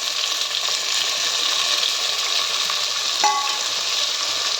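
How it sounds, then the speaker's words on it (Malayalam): Tomatoes sautéing in a pan for an egg curry give a steady, close, even sizzle that carries on unbroken, with one brief clink of a utensil partway through. "തക്കാളി ഒന്ന് നന്നായി വണക്കിയെടുക്കണം"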